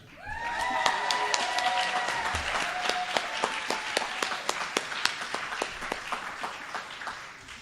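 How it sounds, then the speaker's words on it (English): Guests at a retirement celebration applaud the retirees: sustained clapping from a room of people, moderately distant, with a few high tonal tones early on, then thinning into sharper individual claps toward the end. "I would like to give them each a round of applause"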